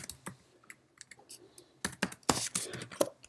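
Quick bursts of typing on a computer keyboard while writing Objective-C code in Xcode, close and crisp, with irregular clusters of key clicks and a denser flurry toward the end.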